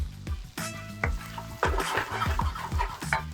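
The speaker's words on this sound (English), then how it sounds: "So now I want to go in with my pork." Pork tossed into a wok with golden garlic and tender onion, with sharp metallic spatula clanks and scrapes landing in uneven bursts over a steady sizzle, close and fairly loud.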